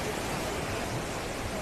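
River rapids and waves on the Nile churn during a rafting run, a steady broadband rush of water that holds at an even, moderate level for the whole stretch.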